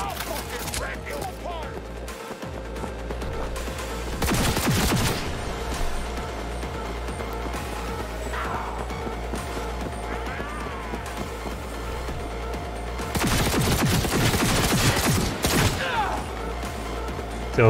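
Gunfire in Cyberpunk 2077 on hard difficulty comes in two loud bursts of rapid shots, with steady game ambience and a player talking between them.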